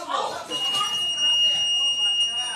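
An electronic alarm rings with steady high-pitched tones, sustained over a couple of seconds, with voices talking over it nearby.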